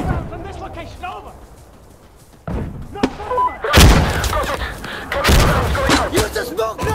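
Grenade blasts and gunfire in the video game Insurgency Sandstorm: a quiet stretch, then a sudden heavy thump followed by loud booming explosions with rumbling tails, over which players shout.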